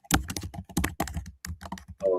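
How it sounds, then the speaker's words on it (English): Rapid clicking keystrokes on a computer keyboard, close and busy, in quick irregular bursts with brief pauses. "Man, who's doing all that typing?"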